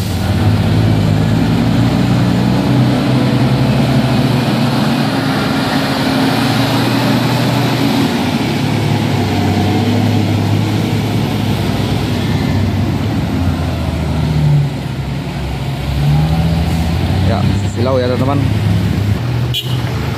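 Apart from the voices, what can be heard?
tanker truck engine running, preparing to tow a truck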